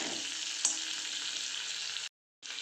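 Green chillies fry in a pan with a steady bright sizzle, close and continuous, one small pop near the start and a brief break before the frying resumes.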